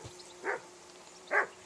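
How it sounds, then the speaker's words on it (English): A dog in Kingdom Come Deliverance 2 gives two sharp, evenly spaced barks, nearby and fairly loud over a quiet steady hum. "that barking's driving me nuts"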